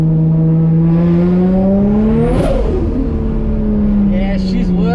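A Nissan R33 with a built turbo RB25DET engine accelerates on a test drive: loud engine tone climbing steadily through the gears, with a brief shift break midway and turbo flutter at the end.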